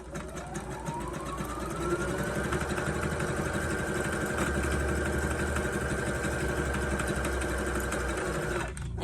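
A sewing machine stitches a dart in fabric with a steady, close mechanical whir as the motor spins up and runs continuously, then stops abruptly at the end.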